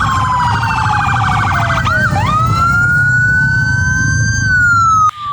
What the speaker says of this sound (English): Police sirens blast through the streets of Black River in St. Elizabeth Wednesday morning